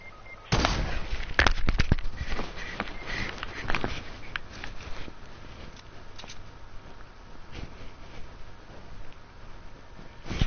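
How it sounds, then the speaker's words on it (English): Gunfire in a video game: a cluster of sharp shots crackles in the first few seconds, then scattered fainter pops continue over low background noise. "Pete, everyone's getting shot over here"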